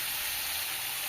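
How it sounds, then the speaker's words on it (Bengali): Water poured into a pan of browned chicken curry gives a steady, soft broadband hiss and sizzle that stays even and fairly quiet throughout, with no voices. "জল দিয়ে দেবো"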